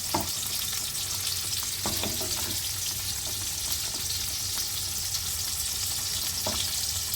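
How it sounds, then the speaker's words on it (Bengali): Tomato and mango chutney cooking in a pan while a spatula mashes it, a steady close sizzle with occasional soft scraping taps, continuous and without talk. "খুন্তির সাহায্যে একটু স্ম্যাশ করে দিচ্ছি"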